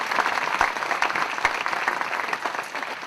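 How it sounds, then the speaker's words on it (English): An audience claps for Shirley Chisholm at a speaking event, a dense burst of applause from many hands that holds steady throughout without cheering. "Can we just clap it up one time for the great Shirley Chisholm?"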